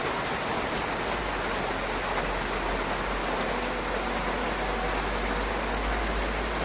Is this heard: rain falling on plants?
yes